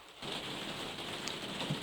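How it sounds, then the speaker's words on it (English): Rain patters steadily on a roof, a soft continuous hiss of drops that begins after a brief quiet moment and stays even throughout. "we've got the sound of rain on the roof"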